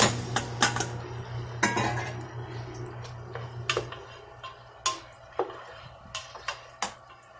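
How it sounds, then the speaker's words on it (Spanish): Cooked wheat is spooned into an onion dressing in a kitchen pot, with a series of sharp metallic clinks and taps of a utensil against the pot, irregularly spaced and close by, over a faint background hum. "en este aderezo vamos a poner el trigo que hemos cocinado"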